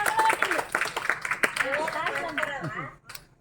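An audience at a couples' gathering claps in a quick, uneven patter, loud and near, while people talk over it; the clapping fades out just before the end.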